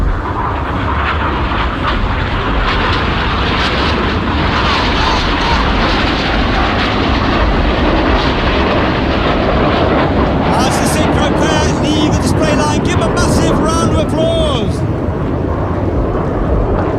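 Red Arrows jets roar loudly and continuously through a display manoeuvre at Bournemouth Air Festival, with a commentator talking over the engine noise.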